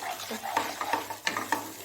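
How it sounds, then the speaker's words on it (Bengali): Spice paste is stirred and fried in a pan, with repeated scraping strokes of a spoon over a low sizzle, close and clear. "খুব ভালো মতো মশলাটাকে একটু কষিয়ে নেব যতক্ষণ না মশলার কাঁচা গন্ধটা চলে যাচ্ছে।"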